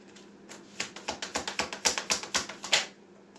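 Tarot cards being shuffled and one drawn from the deck, a rapid rhythmic run of about a dozen crisp, close flicking snaps that ends abruptly.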